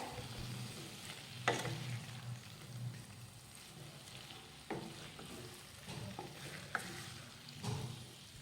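Boiled potato chunks are stirred into a hot spice mix for puri bhaji, low frying sizzle with several distinct scraping and clacking spoon strokes spaced across the clip.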